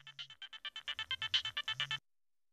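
A mobile phone ringtone plays a quick run of rapid electronic beeps in repeating bursts, fairly quiet and alone, stopping abruptly after about two seconds.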